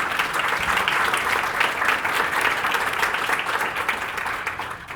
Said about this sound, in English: a warm round of applause for our panelists